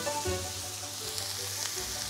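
Vegetables with salt, pepper and herbs fry in a pan while being stirred, a steady close sizzle with a few soft scraping strokes, no voices.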